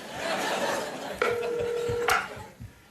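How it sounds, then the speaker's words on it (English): Telephone dialing for a phone call: a couple of brief tones, then a steady two-tone beep lasting under a second, over faint background murmur. "I'm gonna make a phone call right now."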